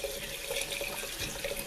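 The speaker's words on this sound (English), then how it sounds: "So I'm going to rinse it off good" Tap water runs in a steady stream, splashing as sprouting wheat seeds are rinsed in a seed germinator, close and continuous without speech.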